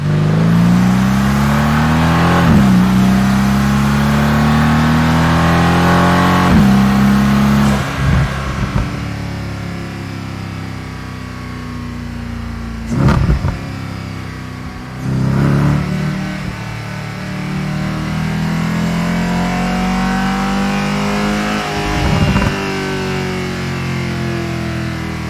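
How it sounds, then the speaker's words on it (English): A Mercedes SLS Gullwing's engine rises in repeated loud revs and gear pulls, pitch climbing and dropping through several shifts as the car accelerates close by, with a quieter cruising stretch between bursts. "Once you punch that car and you go rev her up, it's like the noise is phenomenal."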